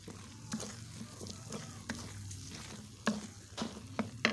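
A spoon stirs and scrapes through besan halwa frying in a pan, with repeated quiet strokes over a soft sizzle, close and alone.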